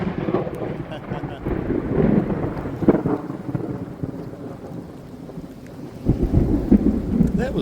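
Thunder from a lightning strike close by in a field during a warm rainstorm, with heavy booming rumbles rolling over constant loud rain, and a fresh crack and rumble near the end.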